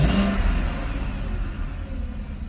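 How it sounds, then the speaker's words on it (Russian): Fully warmed BMW M62B35 3.5-litre V8 revving steadily with a continuous low rumble, heard up close with no talk. "Полностью прогретый мотор."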